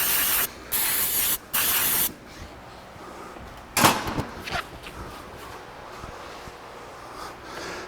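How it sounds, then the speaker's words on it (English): Brake wash cleaner sprayed onto a Jeep JK master cylinder during a big bore upgrade: three loud, steady aerosol bursts in quick succession, then quieter workshop clatter and a short hiss. "So I'm just going to spray it off with a little bit of brake wash there."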